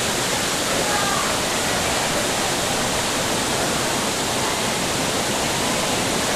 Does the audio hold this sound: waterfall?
yes